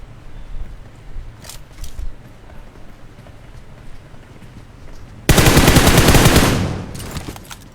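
Gunfire in a shooting video game: a few faint scattered shots, then a loud sustained automatic burst of about a second and a half, followed by two more quick shots.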